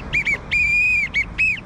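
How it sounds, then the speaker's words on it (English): A referee's whistle is blown in a rapid series of shrill blasts: two quick toots, one long sustained blast, then two more short ones, loud and close. "We need to do a practice to make sure the whistle's working,"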